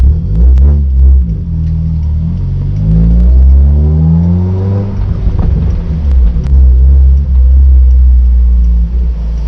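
A car engine revs hard with a loud, throaty exhaust rumble, rising and falling through several throttle pulls, close and continuous.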